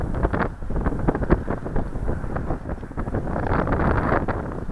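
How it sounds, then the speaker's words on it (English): Strong gusty wind buffets the microphone in irregular loud bursts during flight of a model aircraft in high wind. "that's hard fighting that wind, ain't it?"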